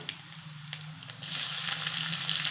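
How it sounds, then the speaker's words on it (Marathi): Cumin and mustard seeds hit hot oil in a kadhai, a low steady sizzle that swells into a brighter, louder crackle partway through and keeps going close by. "कढईमध्ये आपण तेल तापवून घेतलेलं आहे। त्यात टाकतोय आपण जिरे,"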